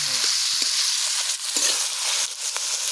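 Onions frying in a pan as a Bengali potol and prawn dish is cooked, a steady close sizzle and crackle with a few soft stirring clatters.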